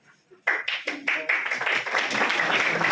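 At a lawyers' gathering in a bazaar, clapping starts abruptly after a quiet moment with a few sharp individual claps, then thickens into steady, loud applause from the crowd, with some voices mixed in.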